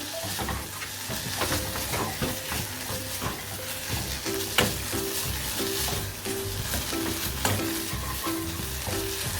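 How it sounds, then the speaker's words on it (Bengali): Pre-fried flaked rohu fish is stirred through a drying mix in a pan, with a loud close sizzle and repeated scraping strokes of the spatula throughout. "এখন এতে আমি অ্যাড করব ভেজে রাখা কাটা ছড়ানো রুই মাছের গুঁড়া। দিয়ে দিলাম, নেড়ে চেড়ে নিচ্ছি আমি।"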